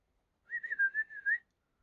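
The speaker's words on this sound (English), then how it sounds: "So that's me whistling. I'm trying to get him to whistle" A person whistles to a pet bird, a single wavering tone lasting about one second, close and clear against silence, with a few small pitch bends.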